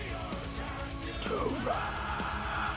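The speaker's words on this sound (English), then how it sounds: "And then I scream behind him here." A man screams in the background of a recording, a short rising and falling yell beneath another voice and the dense backing sound, loud for about half a second and then fading back into the mix.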